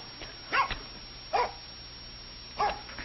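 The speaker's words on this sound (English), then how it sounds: "Oh, nice doggy. Good doggy. Go home. Go home." Dog barking in a 1937 film, three short separate barks spaced across a few seconds over a low muffled background hum.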